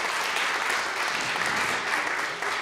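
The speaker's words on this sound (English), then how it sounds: "give yourselves a round of applause" Steady applause from a large audience at a nursing association's event at Queen's Park, dense even clapping filling the room without a break.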